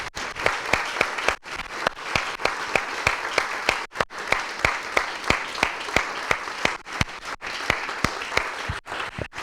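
A church congregation claps and cheers in unison, a steady run of sharp hand claps with crowd noise beneath, loud and close throughout.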